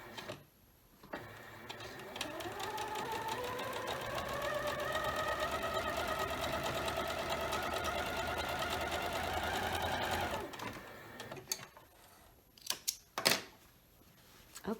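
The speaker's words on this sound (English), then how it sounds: "I'm going to bring it over here to the machine and start stitching" A sewing machine stitches quilt border sections in a steady, rapid run lasting several seconds, its motor whine rising as it speeds up, then stopping, followed by a few sharp clicks and handling noises.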